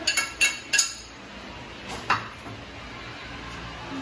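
Ginger is dropped into a bowl with a utensil, giving a few light clinks and taps of metal against dishware, clustered at first and then sparse, over a quiet kitchen background.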